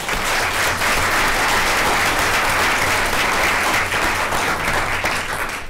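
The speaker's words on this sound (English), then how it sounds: "if we can give these students a round of applause" Audience at a school board of education meeting giving a round of applause for a group of third-grade students, a loud, sustained crowd clapping that holds steady for several seconds with no voices on top.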